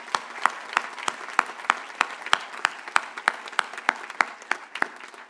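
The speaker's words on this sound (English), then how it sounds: "Please give yourselves a round of applause." Graduates clap at a college commencement ceremony, a steady run of distinct, sharp claps spaced evenly through the hall, moderately loud and continuous with no talking over it.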